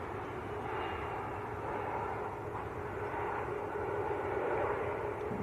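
An EasyJet Airbus A321neo arriving from Nice at Manchester Airport gives a steady, distant, low engine roar with a soft airy rush and a slight swell toward the end, with no talking.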